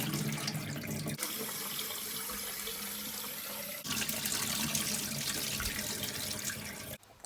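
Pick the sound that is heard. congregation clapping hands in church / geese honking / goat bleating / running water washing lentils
running water washing lentils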